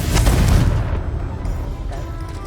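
A Confringo blasting curse in Hogwarts Legacy goes off as one loud, deep boom that rumbles and fades over a couple of seconds.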